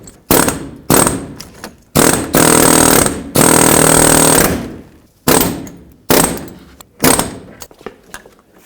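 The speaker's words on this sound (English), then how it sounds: "I'm actually going to use my air chisel, come in from the backside, just try to punch this out of here." Loud pneumatic air chisel punching out a seized sensor on a 2006-2011 Chevrolet HHR front wheel bearing, several sharp bursts, short rattling hits then one long sustained hammering run, followed by more brief bursts with pauses between.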